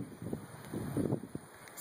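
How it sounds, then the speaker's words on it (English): Gusty wind on a farm rumbles and buffets the microphone outdoors, rising and falling in low-pitched surges with no voices. "It's really windy out today."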